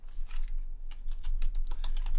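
Fingers type quickly on a computer keyboard while code is written, a close, steady patter of key clicks with a few louder taps and no talking.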